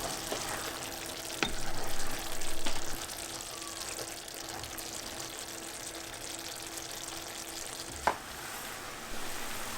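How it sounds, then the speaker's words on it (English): A courgette and split chickpea curry cooks in a pot with a soft continuous simmering sizzle, while a spoon stirs it with a few faint scrapes and two sharper clinks against the pot. "I'm just going to give it a stir"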